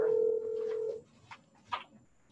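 Telephone keypad dialing tones on a phone used to call into a municipal zoning board of appeals meeting: a steady tone for about a second, then a few quieter, brief beeps.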